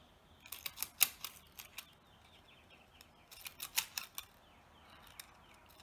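Scissors cut plastic into little strips in quick clusters of crisp snips, a burst early and another midway, fairly close and otherwise quiet.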